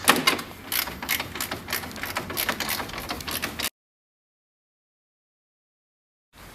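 Ratcheting bursts sound close and rapid as bolts come out of the grille of a Toyota Prado 150, a clicking mechanical run for about four seconds that ends abruptly and is followed by silence.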